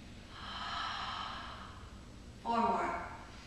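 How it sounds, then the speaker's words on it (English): Two slow, audible yoga breaths during a chakra-balancing sequence: a long, airy inhale followed after a short pause by a stronger, breathier exhale, close and clear with no talking. "Inhale, exhale, inhale."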